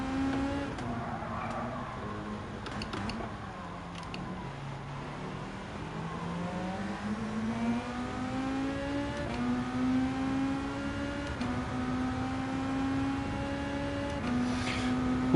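An AMG car drives in Gran Turismo 7, its engine droning steadily as the pitch sags, then climbs through a long acceleration. The engine stays fairly quiet and continuous, with no talk.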